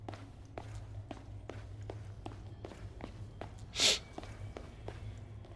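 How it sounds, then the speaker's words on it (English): Footsteps in the dark horror game Slender: The Arrival, a regular series of soft, close steps over a low ambient hum, with one sharp, breathy burst near the middle and no one talking. "I heard footsteps"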